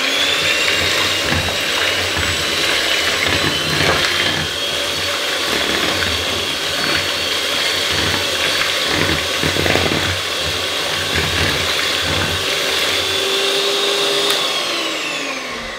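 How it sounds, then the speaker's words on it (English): Food mixer whizzing oat flakes, a loud continuous motor whine with gritty rattling from the flakes, running steadily close up before winding down at the end. "I'm going to give it a whiz with a food mixer just to try and break up the oats flakes a little bit more."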